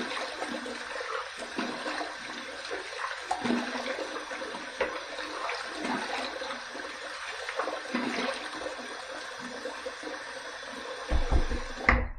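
Cold water runs from a tap for rinsing before a shave, a steady, fairly faint splashing hiss with a few knocks and clatters near the end.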